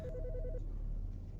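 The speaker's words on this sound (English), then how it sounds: "The fucking phone." A telephone rings in the horror game Autopsy Simulator, two quick electronic trills sounding loud and close, then stopping, leaving a low hum of room ambience.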